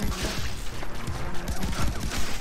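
Pistol fire in Far Cry 3: Blood Dragon crackles as a rapid, irregular string of sharp shots and impacts over dense, noisy game sound, close and loud throughout.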